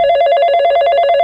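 A telephone rings with a bright electronic warble, a rapid trilling tone pulsing evenly through the short burst, loud and close with no voices.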